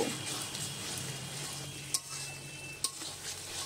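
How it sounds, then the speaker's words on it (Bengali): Spice paste being fried in oil in a pan for a Bengali boal fish curry with new potatoes and aubergine, a steady soft sizzle with two brief clinks of a utensil against the pan, no talking. "মশলাগুলোকে এবারে আমরা তেল ছাড়া অবধি কষিয়ে নেব"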